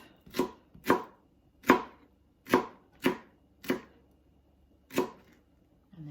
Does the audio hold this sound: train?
no